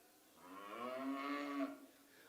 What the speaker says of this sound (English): Here is the Lessing cattle, Paul Lessings.